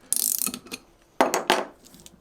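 Metal clicks and ratcheting from hand tools working Torx screws loose on a TAS65 power steering gear during disassembly, in two short bursts of close, loud mechanical clatter separated by a pause.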